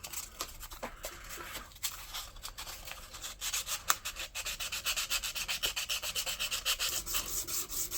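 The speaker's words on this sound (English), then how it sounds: "Go ahead and hit them with some finer sandpaper." Bone guitar picks being sanded with fine sandpaper, a continuous close scratchy rubbing that turns into a quicker, rhythmic back-and-forth strokes toward the end.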